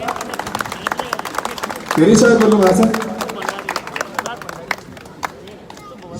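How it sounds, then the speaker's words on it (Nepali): An audience breaks into brief welcoming applause at a gathering in Nepal, a burst of dense clapping lasting about a second amid a speaker's voice that continues before and after. "कृपया उहाँलाई चाहिँ ताली बजाएर स्वागत गरिदिनु होला।"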